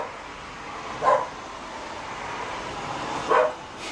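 A dog barks twice from somewhere outside, each bark a short muffled burst about two seconds apart over a steady background hum.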